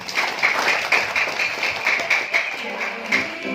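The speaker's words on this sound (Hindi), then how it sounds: "आप सभी लोगों के लिए एक बार फिर से जोरदार तालियां हो जाए" An audience at a speech event gives a loud, sustained round of clapping, a dense crackling wash with uneven swells that carries on for several seconds.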